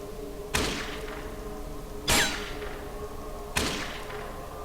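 Three evenly spaced gunshots from combat in the Fallout 2 video game, each a sharp crack with a short decaying tail, heard clearly with no talk over them.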